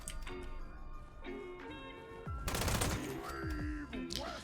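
An MG42 quad machine gun fires in Fallout 76 as rapid, dense bursts of gunfire, mixed with game tones and chimes and scattered mechanical clicks.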